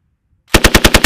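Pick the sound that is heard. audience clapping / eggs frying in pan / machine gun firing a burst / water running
machine gun firing a burst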